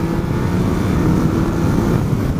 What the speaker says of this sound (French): c'est une moto à 3 roues